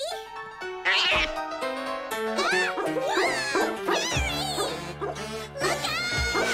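Cartoon cat meows and yowls repeatedly over a loud music score, with rising and falling wails spread across the whole stretch; no speech is heard.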